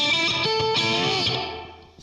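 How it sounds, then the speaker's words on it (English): Electric guitar played through a Wangs Mini 5 watt tweed amp with reverb added, a few ringing notes and a chord trailing off into a decaying reverb tail. "Let me give it a little reverb."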